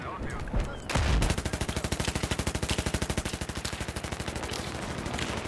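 Gunfire in the Battlefield 3 video game, a sniper firing, heard as a dense, steady rattle of rapid shots after a brief louder burst, continuing loudly throughout.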